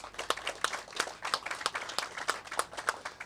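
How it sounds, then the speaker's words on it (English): Scattered, modest applause at a community house groundbreaking ceremony: a small group clapping in uneven, separate bursts rather than a dense roar, heard from a moderate distance with no voices over it. "I think we all deserve a round of applause for this."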